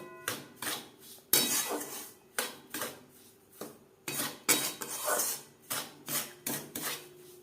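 Semolina being stirred with milk powder in a pan, a spoon or spatula scraping and knocking against the metal in uneven bursts, close and fairly loud with brief pauses between strokes.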